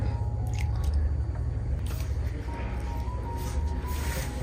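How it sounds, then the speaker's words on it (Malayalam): Soft, wet squishing comes from hands kneading a stiff dough of flour with water and ghee, with irregular sticky squelches close up and no talking. "ഇനി ആവശ്യത്തിന് വെള്ളം കുറച്ചായിട്ട് ഒഴിച്ച് ഈ മാവൊന്ന് കുഴച്ച് എടുക്കാം."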